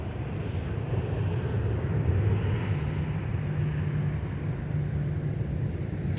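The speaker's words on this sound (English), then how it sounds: "just touching down in front of us is another former Northwest Red Tail 757-3 from Orlando" A former Northwest Red Tail Boeing 757-300 airliner touching down at Minneapolis–St Paul airport, heard as a continuous low engine rumble with a faint droning hum, steady and moderately distant, no talking.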